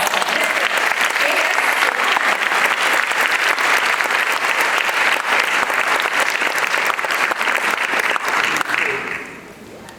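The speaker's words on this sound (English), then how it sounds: "big round of applause." A big round of audience applause for a performer at a Bharatanatyam arangetram, loud and sustained for about nine seconds before fading out.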